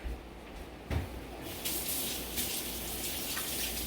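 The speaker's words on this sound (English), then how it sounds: "Let me wash my hands really quick." Hands are washed under a running kitchen tap: a soft knock, then a steady gush of water starts and keeps flowing, close and fairly quiet, with no talking.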